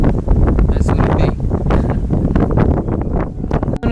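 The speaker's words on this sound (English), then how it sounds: "Since I understand talking to the tree, we got real windy." Strong, steady wind blowing through a tree on a mountain hike, a continuous loud rush with gusty surges and rustling.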